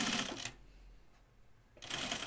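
Sewing machine running a stitching pass along an anorak lining, bursts of dense rapid whirring at the start and end separated by a quiet pause of about a second, close and moderately loud with no voices.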